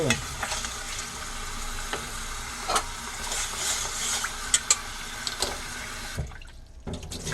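Rice is washed by hand in a bowl of water, sloshing and swishing up close with steady churning and a few sharper splashes before stopping near the end, with no voice.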